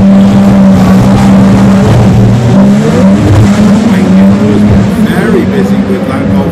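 An Audi RS3 makes an 8-second drag run at a VW drag racing event, a loud, close, sustained engine roar holding a steady drone. A commentator's voice carries over it throughout.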